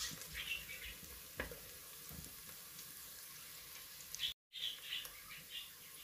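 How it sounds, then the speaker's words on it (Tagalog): Onion and garlic sauté in a pan for ginataang kalabasa at sitaw, giving a faint, steady sizzle with occasional light clinks and stirring scrapes and a brief dropout near the end. "Gisahin din po natin hanggang maging light brown."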